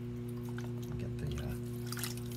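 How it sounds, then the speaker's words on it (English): Water being sponged or drawn out of the bottom of a ceramic pot on a potter's wheel, brief wet sloshing and dripping sounds over the steady electric hum of the spinning wheel. "water out of the bottom of my pot."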